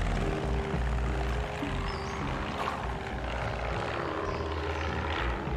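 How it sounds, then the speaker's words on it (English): A propeller airplane in the video game Placid Plastic Duck Simulator drones overhead with a steady, loud engine rumble and buzzing hum that fills the whole stretch, swelling slightly as it passes. "There goes the plane."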